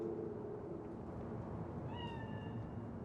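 A cat in the game Cyberpunk 2077 gives a single clear meow near the end, heard over a low, steady ambient hum of the game scene.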